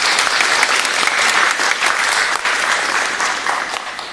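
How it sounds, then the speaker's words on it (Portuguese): A church congregation at a live Lutheran worship service breaks into loud, sustained applause, a close, dense roar of many hands that barely dips before easing off at the end. "Pode dar uma salva de palmas."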